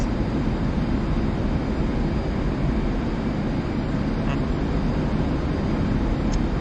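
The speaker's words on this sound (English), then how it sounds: "I noticed there's a plane approaching from the southwest." An airplane approaching in the DCS flight simulator video game gives a steady, loud engine drone that holds an even level the whole time, with no voices over it.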